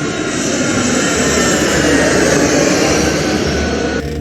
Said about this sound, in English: Passengers, prepare for takeoff.